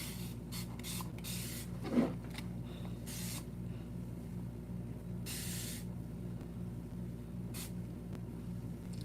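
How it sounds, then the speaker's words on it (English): Quiet hissing sprays from a spray bottle of rosemary water, several short puffs spread across a soft background hum, with no voices. "This is the spray that I make. Rosemary water."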